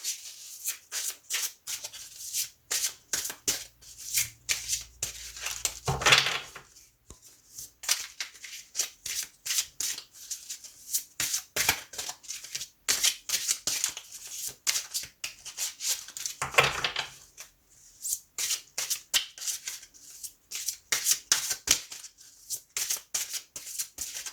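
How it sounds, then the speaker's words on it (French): Oracle cards are shuffled by hand in repeated bursts of quick, crisp riffling and sliding, close and dry, with a couple of louder bumps between rounds. "Je vais faire le tirage des 3 cartes. D'abord très bien mélangé."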